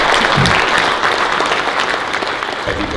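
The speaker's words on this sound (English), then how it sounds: "Give him a round of applause." A live audience applauds a forex trader, a dense, steady wash of clapping that stays loud for the full three seconds with no voices over it.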